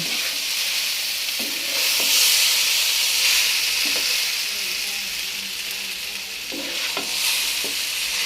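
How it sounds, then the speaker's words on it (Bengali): Maggi noodles cook in a pan at home, with a continuous loud sizzle and hiss of frying punctuated by occasional scrapes and knocks of stirring, close up throughout. "দেখতে পাচ্ছেন আমাদের বাসায় নুডলস রান্না হচ্ছে।"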